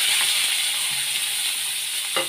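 Onion hits hot oil already popping with mustard seeds and garlic, setting off a steady bright sizzle that hisses evenly throughout, with a faint scrape near the end.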